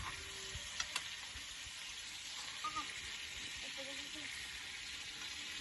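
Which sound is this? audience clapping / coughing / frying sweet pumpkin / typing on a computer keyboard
frying sweet pumpkin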